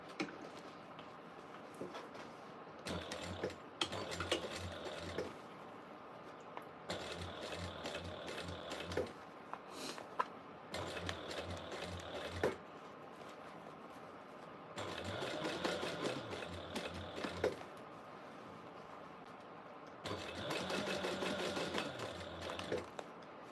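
Sewing machine stitching a zipper seam at a quarter-inch allowance, running in four or five steady bursts of rapid needle hum separated by short pauses.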